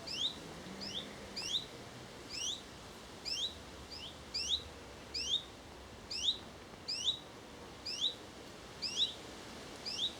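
A warbler sings from the trees along a cool, tree-covered footpath in Norfolk, repeating short, high, bright phrases at a steady pace about once a second, faint and somewhat distant against quiet outdoor background.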